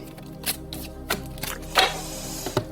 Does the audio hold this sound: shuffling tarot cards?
yes